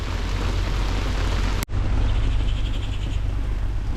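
Steady rain pours down around a houseboat on the backwaters at Alappuzha, a dense continuous hiss close by with a brief dropout midway, then the downpour carrying on unchanged.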